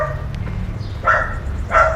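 Two dogs, one black and one white, bark in two short bursts over a steady low background rumble, fairly close and moderately loud.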